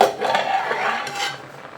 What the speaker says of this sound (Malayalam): മൂടി വെച്ചിട്ട് നമുക്ക് തിളപ്പിച്ചെടുക്കാം.